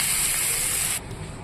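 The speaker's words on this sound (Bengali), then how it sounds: "সবজিটা আমার কষানো হয়ে গেছে এবার আমি জল দিয়ে দেবো" Water poured onto sautéed vegetables in a hot pan bursts into a loud, bright hissing spray for about a second, then drops to a quieter steady sizzle.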